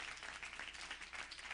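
Church congregation applauding steadily, a dense wash of many hands clapping at moderate volume with no voices over it.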